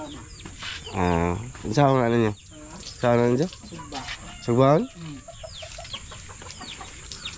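Chicken clucking nearby in a rural Filipino setting, several short harmonic clucks and calls interleaved with people talking.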